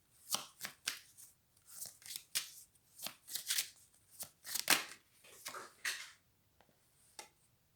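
Tarot cards drawn and handled close by, a string of crisp, papery snaps and slides in short irregular bursts, then a pause and one final flick.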